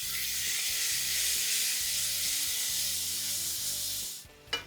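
Steady loud sizzle and hiss of a hot tempering in a pan as raw mango paste goes in for mango dal, the frying dying away near the end, with a brief knock of the pan.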